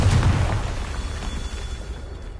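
A Confringo blasting curse detonates in Hogwarts Legacy near Hogsmeade, a loud, deep boom at the onset followed by a rumbling tail that slowly fades over a couple of seconds.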